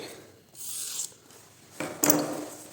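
Knife sharpened on a dense Ukrainian whetstone: two or three close, rasping grinding strokes, each a soft scraping sweep, with quiet gaps between them and no speech.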